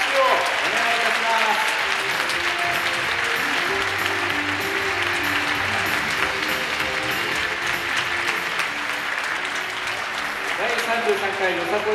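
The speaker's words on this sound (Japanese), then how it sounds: "もう一度この10組に惜しみない拍手をお願いいたします" Sustained applause from the audience at the YOSAKOI Soran Festival U-40 contest awards ceremony, honoring ten teams; the broad, even clapping continues the whole time, with tonal sounds and voices running underneath.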